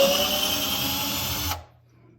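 A cordless ALTOCRAFT 20V drill driver bores into solid oak, its loud, steady motor whine running continuously for about a second and a half before cutting off abruptly into near silence.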